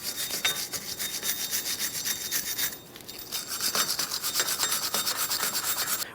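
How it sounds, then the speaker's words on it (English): Wire brush scrubbing the wheel bearing hub surface of a 2008-2012 Jeep Liberty during a front brake job, a steady close rasping scrub that pauses briefly midway and then resumes. "You can use a wire brush or even a small piece of sandpaper if necessary."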